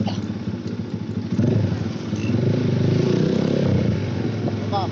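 A 400cc motorcycle engine revs nearby, its loud throaty rumble rising and holding with uneven throttle blips, while a voice is briefly heard over it.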